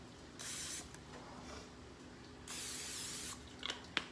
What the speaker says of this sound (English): we've got to grease the pan down